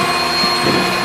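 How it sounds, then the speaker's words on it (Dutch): Electric mixer whirring steadily as it beats pancake batter, a loud continuous motor hum with no pauses. "Je zet de mixer aan."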